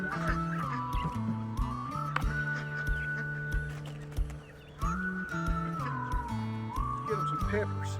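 Backyard chickens and ducks eating broccoli leaves, with clucking and quacking calls repeating close by throughout, mixed with steady background music.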